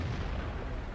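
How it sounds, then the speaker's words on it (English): An artillery shell slams into a tank destroyer in the World of Tanks game on the Fjords map: a short, dense, heavy boom with deep rumble filling the whole moment. "Now the artillery puts a great shot in the tank destroyer"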